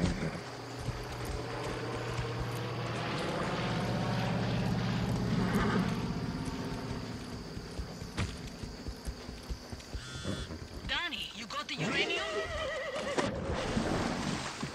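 A horse in the video game Far Cry 6 neighs over a low droning engine-like hum, followed by shuffling hoof clops and further whinny-like cries toward the end, all fairly close and clear.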